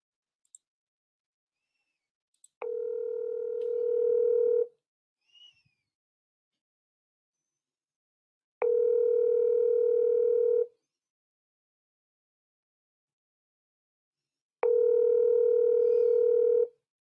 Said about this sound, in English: we're trying to get Dana on the phone here